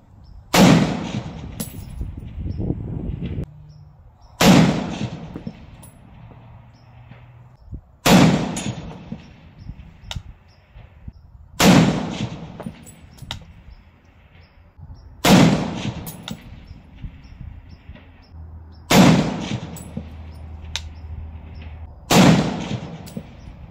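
Seven sharp rifle shots from an M1 Garand and a Lee Enfield No 4 Mk II at a 650-yard range, each a loud crack with a rumbling tail, spaced about three to four seconds apart with quiet between.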